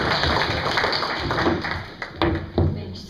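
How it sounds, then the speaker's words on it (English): Audience applause at a PechaKucha Night presentation evening in Des Moines: a steady wash of clapping from a crowd, fairly even throughout, with a few louder claps standing out near the end. "so give her applause for that and for"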